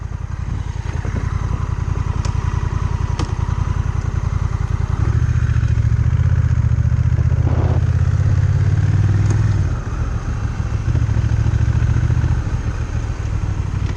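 A Honda Rebel motorcycle rumbles nearby on a ride around Saint Simons Island, with a steady low engine note that rises and grows louder midway as the throttle opens, then drops back to a calmer putter.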